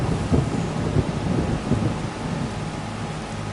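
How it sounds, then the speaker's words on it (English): Rain pours steadily with low rolling thunder in the Farming Simulator 25 game, a dense close hiss with brief deep rumbles early on, no talking. "it doesn't make sense to me that it's raining right now either in the game"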